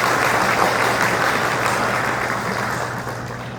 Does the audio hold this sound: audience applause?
yes